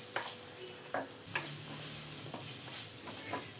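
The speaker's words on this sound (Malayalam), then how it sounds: "ഫ്രൈ ചെയ്ത് വെച്ച് വെണ്ടക്കായ കൂടെ ചേർത്ത് കൊടുക്കാം. എല്ലാം ഒന്ന് മിക്സ് ചെയ്തെടുക്കാം." Fried okra gets stirred into tomato gravy in a pan, with a gentle simmering hiss and a few light spoon taps against the pan, no speech.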